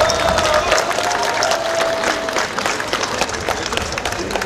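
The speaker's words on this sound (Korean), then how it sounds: "여러분, 큰 박수를 보내주시기 바랍니다." An outdoor election campaign rally crowd in Janghowon claps loudly with some cheering, a dense burst of many hands and voices that stays strong throughout.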